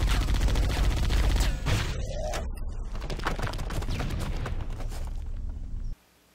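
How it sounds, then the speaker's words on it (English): Rapid gunfire and explosive blasts from a rocket launcher aimed at Hunters in the video game Halo, loud and dense for most of the stretch before cutting abruptly to near silence. "Time to try out this rocket launcher and see if it's really as good against Hunters as it's supposed to be."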